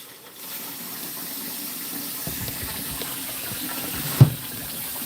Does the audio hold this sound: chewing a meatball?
no